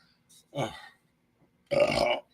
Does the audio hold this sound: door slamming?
no